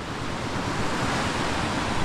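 Brown, muddy sea surf roars in a steady broadband wash with wind buffeting the microphone, loud and close, with no speech.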